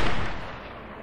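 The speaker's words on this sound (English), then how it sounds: "That was a warning shot." A single pistol gunshot in Fallout New Vegas: one loud, sharp report that fades out over a second, with nothing else heard.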